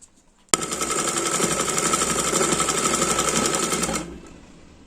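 A sewing machine runs a double line of stitching along a kurti sleeve seam, starting abruptly and whirring loud and steady for about three and a half seconds before stopping.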